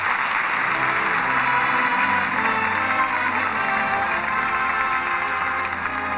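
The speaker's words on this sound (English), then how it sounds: "And that applause says it all." Studio audience applause at the close of a Lux Radio Theatre broadcast of The Treasure of the Sierra Madre, a dense, steady ovation filling the room at even loudness with no voices over it.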